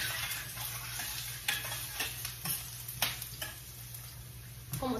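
Onions frying with cooked beans in a pan, a steady sizzle running throughout with scattered ticks and clinks of stirring, close and moderately quiet, no talking.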